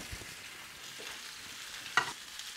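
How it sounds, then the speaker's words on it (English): Pieces of lamb neck sear in a pan, a low, steady sizzle with light stirring, a few soft knocks and one sharper clatter near the end, and no voices. "Just have a look and turn each and every piece so they're nice and sealed around the lamb neck."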